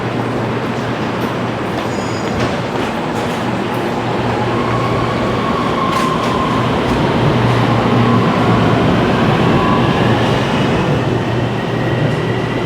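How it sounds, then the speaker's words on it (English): A train pulls into a station with a continuous loud rumble of wheels on rails and faint metallic squeals rising above the steady roar. "And there's my train."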